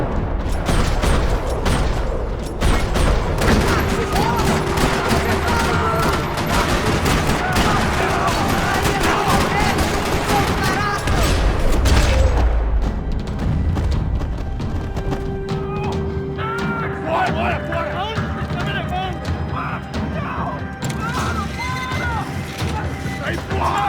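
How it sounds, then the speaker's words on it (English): Gunfire rattles through a parking lot in the video game Max Payne 3, with loud continuous shots and mechanical clatter layered over dense action sound for most of the stretch, and voices heard in between. "Another parking lot rattling with gunfire."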